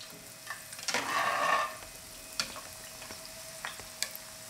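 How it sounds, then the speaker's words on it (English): Korean market-style chicken pieces deep frying in oil at around 350°F, a steady close bubbling sizzle that swells loudly as the battered pieces go in, then settles into a quieter crackle with occasional sharp pops. "I will just fry 12 minutes."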